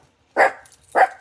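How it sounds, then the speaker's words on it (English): A dog indoors gives two sharp, close barks about half a second apart, with quiet in between. "Stop barking so she can hear me."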